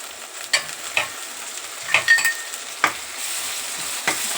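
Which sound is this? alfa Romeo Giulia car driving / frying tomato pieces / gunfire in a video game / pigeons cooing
frying tomato pieces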